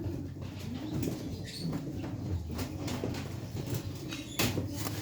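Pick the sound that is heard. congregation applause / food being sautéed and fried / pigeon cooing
pigeon cooing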